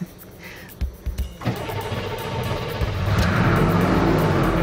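A GM 5.7 liter diesel engine cranks over in a backyard as air is purged from the injectors, with a few clicks and rough starter bursts leading into a sustained, loud, raspy engine churn.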